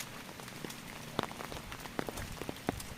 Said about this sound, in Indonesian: Hujannya udah mulai reda.